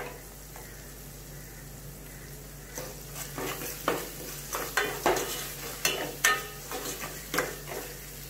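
Spice paste frying in oil for a hot, sweet and tangy brinjal dish, with repeated stirring scrapes and sizzling bursts that pick up after a quiet start, close and moderately loud with no talking.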